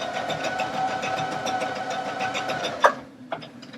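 A Baby Lock Allegro sewing machine stitches out a heart design, its steady rapid needle whir running continuously at close range for nearly three seconds before stopping with a couple of mechanical clunks.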